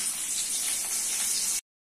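Chopped onions hit hot oil in a pan and set off a bright, hissing sizzle that holds steady for about a second and a half, then cuts off abruptly.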